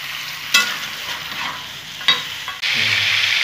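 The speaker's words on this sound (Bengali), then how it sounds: "দেশি চিকেন এইরকম ভেজে নেব আমি" Desi chicken frying in oil in a pan gives a steady close hiss, broken by a few sharp scrapes of stirring and a louder burst of sizzle near the end.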